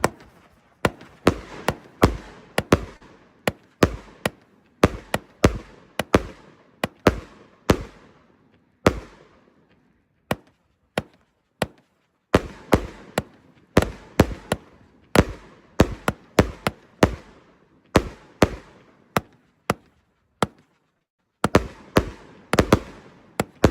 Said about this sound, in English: here goes the Death Star. Wait till you see this thing. This is a real hefty 100-shot cake.